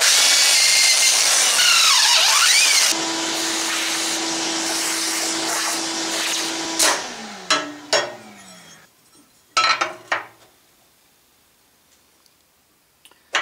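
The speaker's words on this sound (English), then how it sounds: "I flipped it over this way so I can drill this hole now" A loud drill whines steadily into a steel plate for a transfer case mount, then winds down, followed by a few sharp clanks and taps before near silence.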